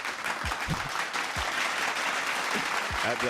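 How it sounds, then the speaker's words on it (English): A studio audience claps in bursts during a talk-show conversation, the applause rising and fading around a voice that continues speaking over it. "I don't know if that's something to clap about"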